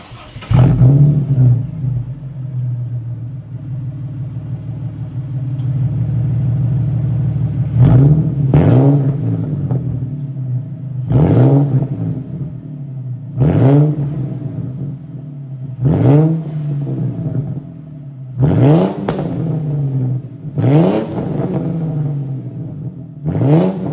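A project car's engine cranks, catches and idles with a low rumble, then revs repeatedly in sharp rising bursts spaced a few seconds apart, loud and close.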